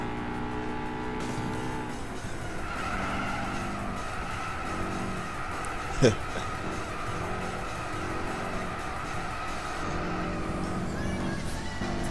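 Race car engines roar continuously in Gran Turismo 6 during a national B five-minute race, with rising and falling revs, a brief sharp tire squeal near the middle and a dense steady mechanical drone throughout.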